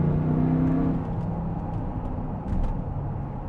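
An Audi Q7 with the 4.2 TDI V8 diesel, refitted with turbochargers from the V12, accelerates hard. Heard from inside, the engine gives a deep, heavy drone that dips briefly around a gear change and then pulls on. No one speaks.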